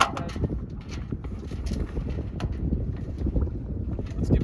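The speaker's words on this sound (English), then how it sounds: "We've got wind coming from this way that's pushing the sail like that." Wind blowing hard across a 24-foot San Juan sailboat at sea, a steady rushing roar buffeting the microphone, with scattered knocks and rigging taps over the wind.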